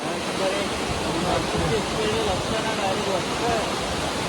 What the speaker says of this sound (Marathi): दुसरा एक धबधबा आहे.